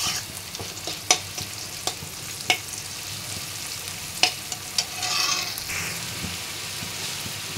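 Ghima greens fry in a pan with a soft continuous sizzle, punctuated by sharp clicks and scrapes of a spatula stirring, and a brief louder hiss midway.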